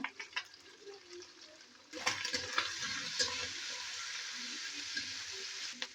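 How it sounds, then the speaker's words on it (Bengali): Steady broadband sizzling of shrimp with turmeric frying in hot oil, rising sharply after a quieter start, with scraping and stirring clatter throughout. "এবার আমি চিংড়ি আমি চিংড়ি মাছটা ভেজে নেবো"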